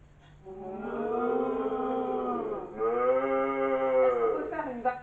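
Students imitate a cow with drawn-out vocal moos, two long harmonic calls in a row, loud and close, followed by a short rising vocal bit at the end.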